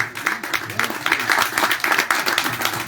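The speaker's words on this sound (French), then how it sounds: "On applaudit bien fort Nicole Duféal." An audience at a ceremony in Martinique applauds a guest, a lively, fairly close clatter of many hands with uneven bursts, and a voice cuts in over the clapping.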